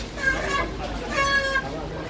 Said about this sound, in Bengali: অনেক মুরগি।